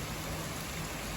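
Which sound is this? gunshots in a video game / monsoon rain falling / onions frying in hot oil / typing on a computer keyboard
monsoon rain falling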